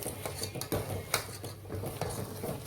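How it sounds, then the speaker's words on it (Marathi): A metal utensil scrapes and clinks against a pot while stirring gram flour batter, in quick, uneven strokes, close by, with no talking. "बेसन टाकून त्याला हलवून घेते थोडं थोडं"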